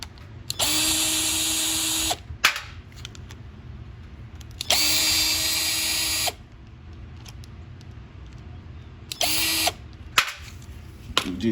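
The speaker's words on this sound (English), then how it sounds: "We take our 9/32 socket. I'm gonna use it on a drill" A power drill fitted with a 9/32 socket drives a bolt on a Yard Machine 300E Briggs & Stratton lawnmower, making three whirring bursts of a second or more with ratcheting clicks and handling noise in the pauses.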